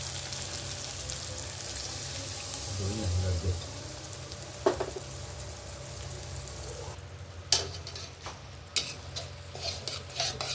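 A spice mix fries with onion, ginger and garlic in a kadai for mutton kosha, giving a steady sizzle with stirring scrapes and a few sharp utensil clacks.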